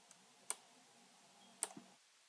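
Two sharp, quiet computer mouse clicks about a second apart in a still room, the second followed by a faint softer tap.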